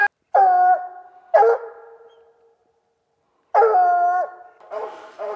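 Coon hunting dogs baying on a Missouri night hunt, long mournful bawls, a few separate calls with pauses between, fairly close and clear against a quiet background.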